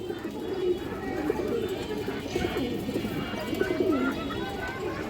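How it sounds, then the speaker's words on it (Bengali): A red chulli pigeon gives repeated low, throaty coos close by, rolling in short phrases over a busy background of other birds and murmuring voices. "এই দেখেন দর্শক কবুতরটা খুবই চঞ্চল একটা কবুতর"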